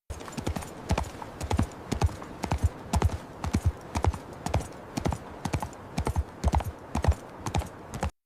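Horse hooves clip-clopping steadily on a hard surface during a point-of-view riding scene generated with AI, the clear close beats repeating in an even gait rhythm throughout.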